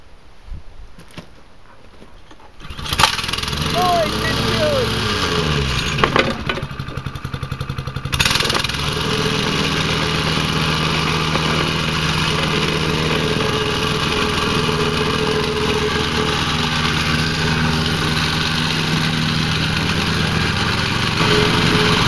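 A small engine sputters, then catches after choking and settles into a steady, loud buzzing run that continues close and unbroken with a slight rise in pitch partway through.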